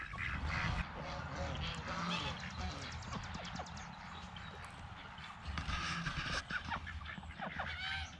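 Ducks and geese quacking and honking in a busy, continuous chorus of overlapping calls, fairly close and loud, with a louder flurry toward the end.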